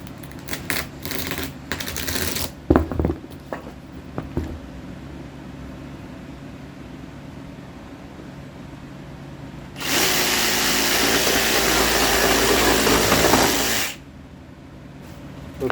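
A power tool cuts a piece for a DIY solar boat top, starting with a few sharp clattering bursts, then a loud steady whine for about four seconds before it stops abruptly, with no talking.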